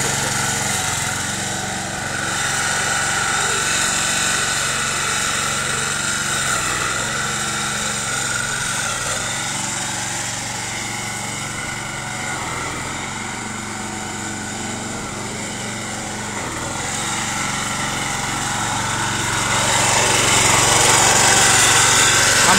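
A locally built grass-cutting lawn mower runs continuously nearby with a steady, buzzing small-engine drone that rises a little louder near the end.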